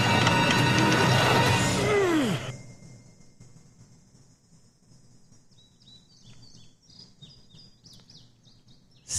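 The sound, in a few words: ambient birdsong in The Walking Dead video game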